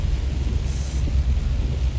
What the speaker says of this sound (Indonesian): hujan melanda guys.